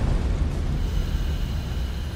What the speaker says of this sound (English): Flames flash back into the storage tank, causing an explosion which blows off the tank lid